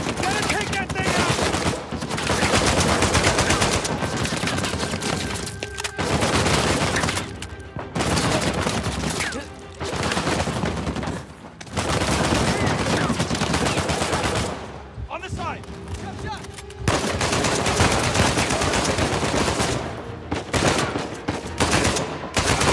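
Sustained turret gunfire in an Uncharted action game, loud and close, with dense automatic bursts that roll on for seconds and drop out only briefly, while voices shout over the barrage.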